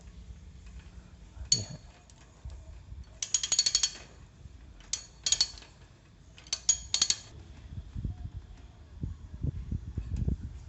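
Bursts of rapid metallic ratchet clicking from a Euro King socket wrench come in several short runs, interspersed with quieter mechanical handling and soft knocks.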